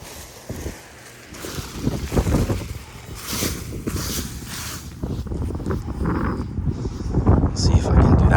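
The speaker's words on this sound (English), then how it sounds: "All right, definitely more wind now." Gusty wind buffets the microphone outdoors on land during a kite flight test in about 18 knots, a broad rushing roar that swells and builds louder toward the end, with a voice talking over it.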